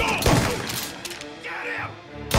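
Gunfire in Mafia: Definitive Edition: a run of heavy shots and thuds close together across the whole moment, mixed with other game noise and with people talking over it.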